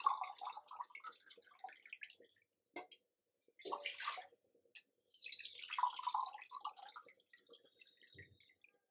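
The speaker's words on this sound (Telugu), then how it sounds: "2 గ్లాసులు పోస్తున్నా, మాకు సరిపోతుంది." About two glasses of water are poured into a cooking pot for tomato rasam, making faint, close splashing and trickling in short bursts separated by brief quiet gaps.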